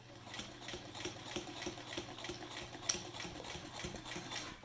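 A sewing machine stitches a cloth face mask seam, running steadily with a fast, even mechanical chatter close by for the whole stretch.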